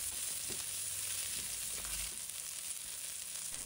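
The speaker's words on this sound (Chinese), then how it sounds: "把姜、葱放入锅中" Ginger and scallions fry with dried shrimp in a hot wok, giving a steady, close crackling sizzle throughout, with a few soft scrapes of stirring and no voices.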